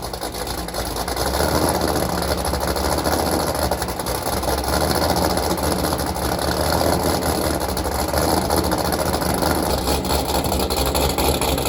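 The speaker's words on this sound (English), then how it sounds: "let's go ahead, get a cold start" A C6 Corvette Z06 with a Corsa Extreme catback exhaust idles after a cold start, a dense, steady, loud exhaust drone with a low rumble that holds evenly throughout without anyone talking.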